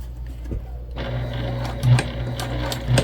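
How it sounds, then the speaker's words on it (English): A sewing machine runs a short back stitch along the piping of a beginner crossbody bag, a steady close mechanical whir starting about a second in after a quiet lead-in, with a couple of brief louder pulses. "We're going to put a nice back stitch in"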